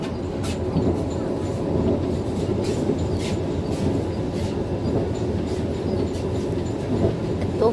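Steady rumble of a Vande Bharat Express train running on rails, a continuous loud rolling roar with faint rhythmic clatter and no voices.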